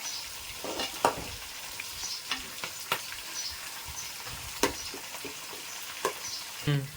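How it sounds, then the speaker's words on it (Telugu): Sliced onions, green chillies and ginger garlic paste frying in oil for a mutton biryani, a soft steady sizzle broken by repeated clacks of a spoon stirring the pan. "పచ్చిమిర్చి కూడా మనకి వేగిపోయింది ఆనియన్స్ కూడా బ్రౌనిష్ కలర్ వచ్చేసి మనము అల్లం వెల్లుల్లి పేస్ట్ వేస్తాం"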